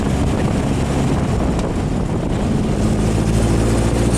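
A vintage VW rail buggy rolls slowly over a rough road, its engine giving a loud steady low rumble with wind buffeting the microphone and constant road noise throughout.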